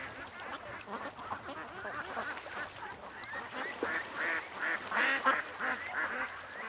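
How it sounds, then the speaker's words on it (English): Ducks and geese call on the water, a quick series of honking quacks repeating in bursts, moderately close, growing denser and louder toward the end. "A bunch of ducks were swimming really quick"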